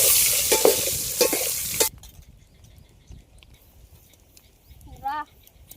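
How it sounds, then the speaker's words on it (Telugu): Onions sizzling and being stirred in a pan for egg biryani at an outdoor canal-side campsite, loud frying and scraping for about two seconds, then a quiet stretch with faint clinks and a brief voice. "ఉల్లిపాయ బాగా ఫ్రై చేసుకున్నాం, బ్రౌన్ కలర్లోకి వచ్చేంతవరకు"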